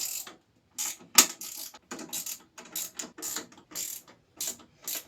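A small 8mm ratchet works on a bolt, giving rapid bursts of close, crisp pawl clicking in short repeated strokes with brief pauses between, alone with no talk.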